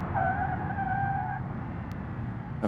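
Car tires squealing under heavy braking in the BeamNG driving game, a sharp tonal screech for over a second over a steady engine and road rumble that carries on afterward.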